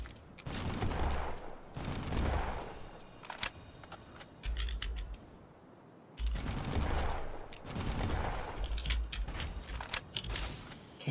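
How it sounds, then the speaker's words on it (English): Video game turret fire in Doll's Nest, coming in loud, rapid bursts of gunshots separated by short lulls, with no talking. "Assuming that's just a turret shooting me?"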